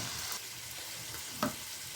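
Chicken fries in a pan for chow mein, a quiet steady sizzle with one brief clink of a utensil partway through.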